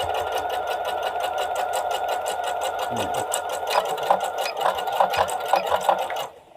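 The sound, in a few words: sewing machine backstitching fabric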